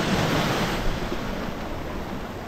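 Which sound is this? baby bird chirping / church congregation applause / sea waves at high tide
sea waves at high tide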